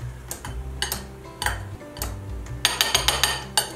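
Repeated metallic clinks and soft scraping taps of a pastry blender mashing hard-boiled egg yolks in a bowl, close up and irregular, with no talking.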